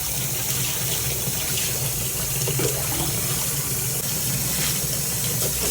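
Steady rushing of hot water pouring from a tap, continuous and fairly close, with no voices.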